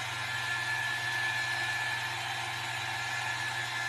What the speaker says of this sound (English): I keep hitting it with my dryer.